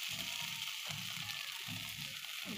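Spinach sizzles steadily in hot oil in a pan with salt, turmeric, cumin and coriander powder, a constant close crackling fry with soft stirring pulses.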